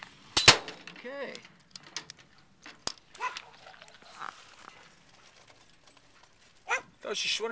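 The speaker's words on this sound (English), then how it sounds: "Why don't you shut up, dog?" A dog barks in a few sharp, scattered bursts amid speech and handling noises indoors, with a loud clack early on.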